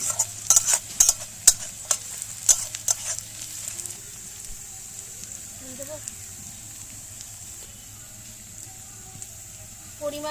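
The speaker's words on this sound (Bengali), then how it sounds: "পেঁয়াজটা লাল লাল করে একটু ভেজে নেব।" Chopped onions with green chillies fry in a pan for egg malai curry, giving a soft sizzle under repeated stirring and scraping clicks in the first few seconds, then a quieter, steady frying hiss.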